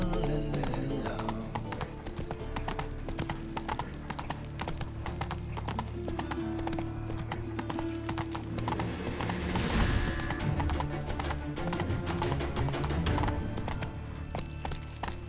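A horse in Witcher 3 trots and gallops with a continuous rhythmic clip-clop of hooves over a steady low background, and a faint voice mutters briefly partway through.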